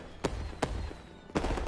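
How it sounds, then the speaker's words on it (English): Fireworks pop in the background of the Beat Saber game on PSVR: three sharp, booming bursts spaced apart, each trailing off into a muffled rumble. "those are the fireworks in the background"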